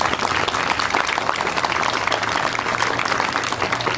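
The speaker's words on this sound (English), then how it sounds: "may we have a round of applause for our next group" Steady applause from a crowd, dense clapping that holds at an even level throughout.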